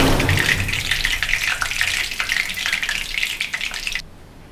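Pieces of chicken lollipop frying in a pan give a steady, close crackling sizzle for about four seconds, then cut off and leave only a faint hiss.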